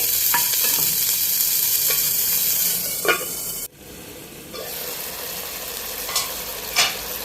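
Bitter gourd theeyal, a Kerala-style curry, simmering in a pan after tamarind water is added: a steady, close bubbling sizzle throughout, with a brief dip midway and a few faint utensil clinks.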